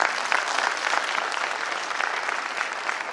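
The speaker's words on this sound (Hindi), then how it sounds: "बजाइए जोर से ताली।" Loud, sustained audience clapping fills a seminar hall at a motivational business talk, a dense, even roar of many hands with no voices over it.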